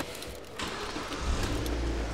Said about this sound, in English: So we'll hop in, get the car started